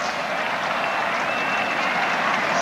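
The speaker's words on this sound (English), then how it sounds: "Second round of applause" A stadium crowd applauds a rugby try at a 1984 South Africa versus South American XV test match, with dense, steady clapping that holds at an even level throughout.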